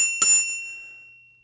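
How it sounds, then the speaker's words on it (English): A single bright ring of the bicycle bell on a Cycanon step-through fat tire city e-bike, struck once, close and clear, with a long, slowly fading metallic tone. "The bell, obviously,"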